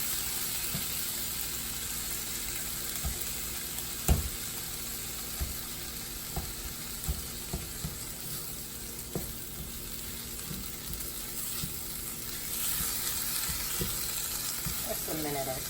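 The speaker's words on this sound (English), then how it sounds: "We're going to add our thawed frozen spinach. I'm gonna cook that till it's fully thawed and heated in our onion mixture." Thawed frozen spinach sizzles as it cooks and heats through in a pan with an onion mixture, a steady frying hiss dotted with soft clicks and pops from stirring, with no talk.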